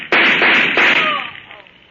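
Sharp burst of gunfire in an old-time radio drama, a few loud cracks in quick succession with a ringing tail that fades out, no voices over it.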